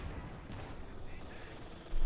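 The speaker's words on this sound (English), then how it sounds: "Stu bombarding, machine gun opening up as well, mortar joining in the fun" Machine gun fire in Company of Heroes 2 rattles at a moderate distance beneath the battle noise, fairly steady, with a louder burst at the very end.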